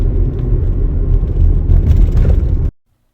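A Porsche Cayenne with a stability system and ABS fault drives along, a loud, steady low road rumble and tire whir heard from inside the cabin that cuts off abruptly near the end.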